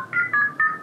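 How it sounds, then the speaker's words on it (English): Telephone keypad tones from a video game, three quick DTMF beeps in a short rising melodic sequence, clean and close. "Sam's assistant is calling someone on the phone, so I said, hey, let's dial the theme there"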